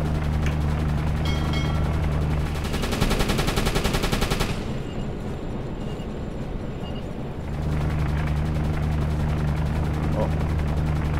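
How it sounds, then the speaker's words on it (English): Deck gun on a submarine firing in the game Uboat, a burst of dense rapid gunfire lasting a few seconds over a steady low engine drone, loud and close. "So I'm going to set Mr. Collar onto the gun"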